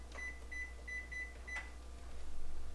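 Five short electronic beeps from an oven timer being set, evenly spaced and fairly close, followed by a sharper tone and low room hum.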